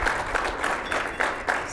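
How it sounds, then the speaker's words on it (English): A live audience at a talk event with Reno Mayor Hillary Schieve claps in a steady patter, a moderately loud wash of many hands with rhythmic peaks and no voices over it. "Took them 45 minutes to clap for something you said"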